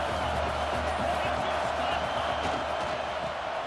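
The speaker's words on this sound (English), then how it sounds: "Here comes the crowd noise" In the video game EA Sports College Football 26, steady, dense crowd roar from a stadium, continuous and fairly loud throughout, with a faint murmur of voices mixed in.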